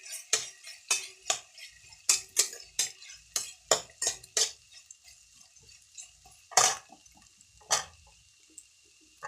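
Vegetables and onions being stirred in a frying pan, a utensil scraping and clinking against the pan in a quick series of sharp strokes, then slower scattered taps over a soft sizzle.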